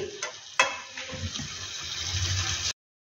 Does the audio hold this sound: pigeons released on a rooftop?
no